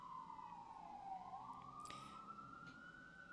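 An emergency vehicle siren wails steadily near a hospital in Manhattan, its single tone sliding down and then climbing again. It sounds fairly distant against the low rumble of the city, with no voices.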